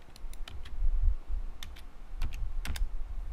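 Quick light taps on a computer keyboard while entering a contact address for PLC programming software, a few sparse clicks in small clusters, close but soft over a low rumbling room noise, no speech.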